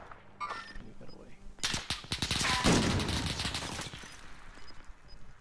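Rapid bursts of gunfire crackle through a shooter video game match, dense volleys in the middle fading into scattered shots, with voices talking over parts of it.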